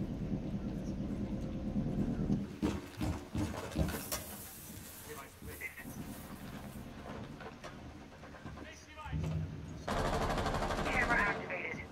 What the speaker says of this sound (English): Well, I'm being shot at.